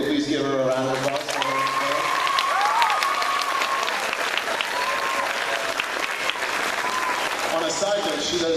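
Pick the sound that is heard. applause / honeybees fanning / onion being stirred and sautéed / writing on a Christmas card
applause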